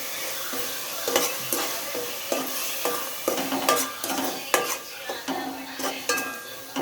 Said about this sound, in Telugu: ఇది కూడా పచ్చివాసన పోయేంతవరకు కూడా వేపుకుంటాం అన్నమాట